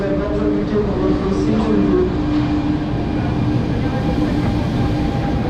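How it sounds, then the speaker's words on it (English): A Paris metro train pulls out of the station with a steady, loud rumble and hum that slowly fades and thins as it leaves. "And that train is taking off."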